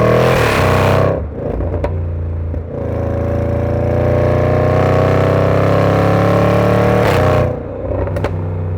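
A Jaguar F-Pace SVR V8 SUV revs its exhaust loudly and up close, a sustained deep engine roar with rising and falling pitch, broken by brief gear-shift dips near the start and end.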